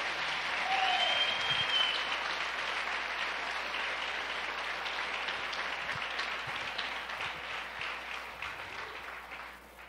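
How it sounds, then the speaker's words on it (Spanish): A church congregation applauding during a Sunday morning service, a broad wash of clapping that starts loud and slowly fades over several seconds, with faint voices underneath. "Aplaude al Rey de Gloria en esta mañana."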